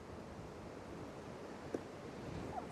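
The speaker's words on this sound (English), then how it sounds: "I can't even keep my hat on. It's so windy." Wind gusts buffet the microphone outdoors at a beehive during a spring inspection, a steady, fairly quiet broadband rush with one brief bump partway through.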